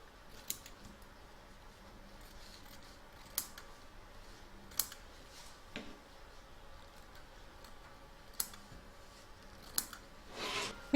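Scissors snip away excess batting from a sunflower fabric coaster, giving a few sparse, faint, sharp cuts spaced several seconds apart over a quiet room hush.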